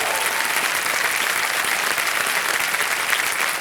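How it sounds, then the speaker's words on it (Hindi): Loud, sustained applause from a studio audience on the game show Kaun Banega Crorepati, dense and even clapping with no pauses. "जोरदार तालियां बज जाए इनके लिए"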